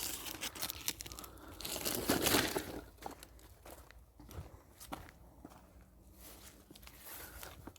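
Discarded ice cream wrappers crinkle and rustle as they are picked up from a forest trail, with a burst of crumpling near the start and soft footsteps crunching on the forest floor throughout.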